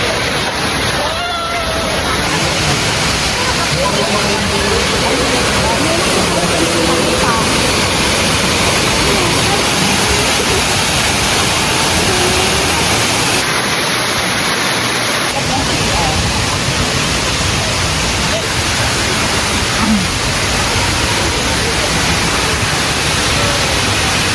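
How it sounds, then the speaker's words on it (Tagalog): Hinulugang Taktak waterfall pours with a steady, loud, broadband roar that fills the whole stretch without a break, with voices faintly audible over the rushing water. "Ganda ng fall"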